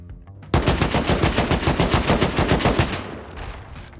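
A Chameleon AK fires a sustained full-auto burst in the Rust video game, a rapid, even stream of loud gunshots lasting about two and a half seconds before trailing off into echo.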